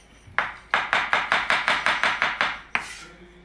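Mushrooms chopped with a knife on a board, a run of about nine evenly spaced crisp loud chops followed by one final cut, close and alone with no talk.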